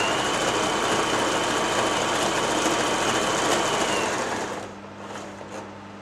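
A Janome J3-18 sewing machine runs a stretch stitch at a steady whirring, rhythmic pace, close and continuous, then slows and quiets near the end.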